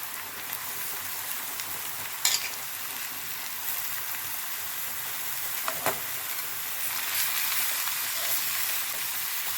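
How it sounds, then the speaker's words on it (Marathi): Black pumpkin vegetable frying with reddened onion and chilli in a pan, a steady soft crackling sizzle throughout with a couple of brief stirring clinks, fairly quiet and without speech. "कांदा लाल झालेला आहे तर भाजी टाकून घेऊया आपण"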